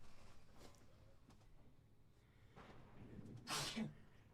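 A single sharp sneeze bursts out near the end after a stretch of quiet background noise, faint and close.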